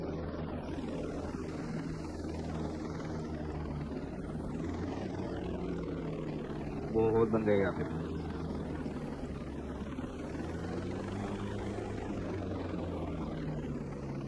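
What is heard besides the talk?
helicopter in video game Ghost Recon Breakpoint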